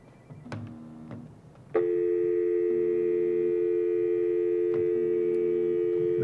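A phone rings with an incoming call, first with short electronic chirps, then a loud, steady ringing tone that carries on for several seconds with nobody talking.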